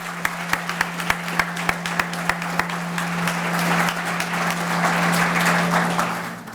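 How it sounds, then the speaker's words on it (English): Applause at a police swearing-in ceremony, starting with a few loud, evenly spaced individual claps over a steady hum, then swelling into a fuller crowd clapping that builds and sustains. "So one more round of applause, please."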